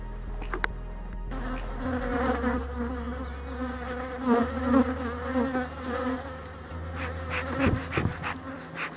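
Honeybees buzz around a hive frame held up close, a steady, loud droning hum of many insects, with a low rumble underneath and brief louder swells as bees pass near.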